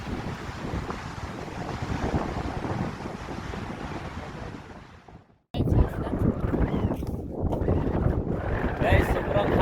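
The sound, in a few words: strong wind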